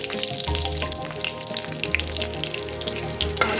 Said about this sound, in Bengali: এবারে ফোড়নে দিয়ে দেবো জিরে, একটা শুকনো লঙ্কা, একটা কাঁচা লঙ্কা, কয়েকটা দারচিনি, লবঙ্গ, এলাচ, আর দিয়ে দেবো একটা তেজপাতা।